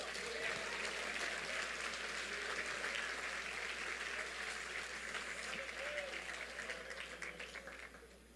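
A church congregation applauds steadily throughout, a dense wash of clapping with faint voices mixed in, fading slightly toward the end.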